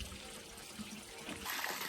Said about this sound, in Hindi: ये देखो पानी आ चुका है